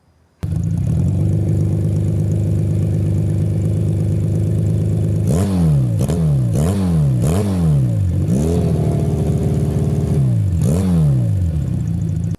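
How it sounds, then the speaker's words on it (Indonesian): A Yamaha Jupiter underbone motorcycle tuned to sound like a big bike idles with a loud, steady, close-up engine note, then gets a series of sharp throttle blips, five quick revs followed by a longer rise and one more blip. "Apakah kalian pernah mendengar atau melihat Jupiter bersuara moge?"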